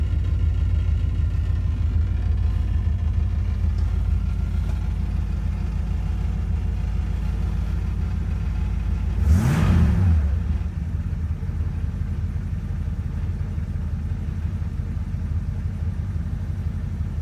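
A 1963 Superior Pontiac Bonneville Air Force ambulance engine idles steadily with a deep, loud, even rumble, briefly swelling in a short rev or passing surge midway before settling back to idle.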